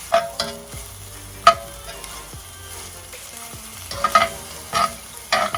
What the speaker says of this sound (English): Let them saute for a little bit. And then we will add our cumin to that.